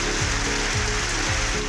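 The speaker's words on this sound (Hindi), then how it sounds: "शकरगढ़ में तेज बारिश ने गर्मी को भगा दिया।" Heavy rain falling in Shakargarh, a steady dense hiss of downpour, loud and continuous with no voices.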